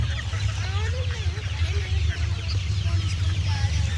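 Country chickens at a market, several hens clucking and chirping close by under a busy background murmur.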